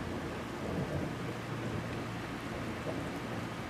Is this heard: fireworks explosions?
no